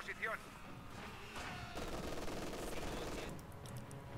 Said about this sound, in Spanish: Aquí está siendo con la ametralladora. Me está cascando.